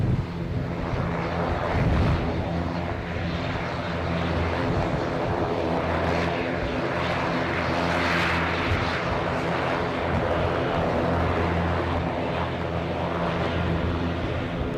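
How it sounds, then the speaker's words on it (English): A Loganair ATR 42 turboprop arriving from Kirkwall at Edinburgh Airport gives a continuous, fairly loud propeller drone with a low hum and heavy wind rumble across the microphone. The sound swells gently and carries no speech. "So welcome in this ATR 42 into Edinburgh Airport."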